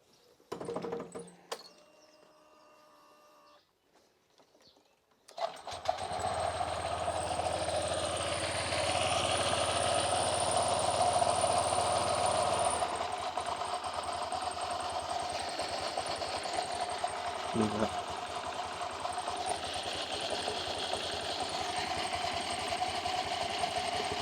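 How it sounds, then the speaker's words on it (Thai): A Honda Click 125i scooter (2018–2023 model) with a freshly replaced clutch bell is started after a few clicks and settles into a steady, close, buzzing idle that runs on alone. "ผมก็จะทำการสตาร์ทรถนะครับ เพื่อให้สายพานมัน เข้าที่นะครับผม"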